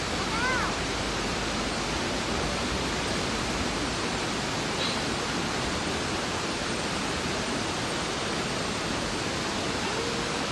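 A river stream at Ulu Yam flows steadily in a continuous broadband rush, loud and unbroken throughout, with no clear speech over it.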